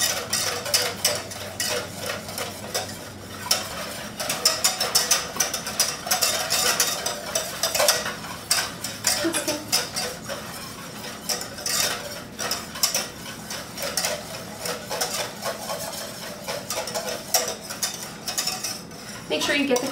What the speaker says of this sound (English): So we are going to whisk this until it starts to thicken